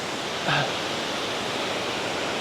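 A waterfall carrying muddy water after rain roars as a dense, steady rush of broadband noise, close and loud, with a brief chirp-like tone near the start.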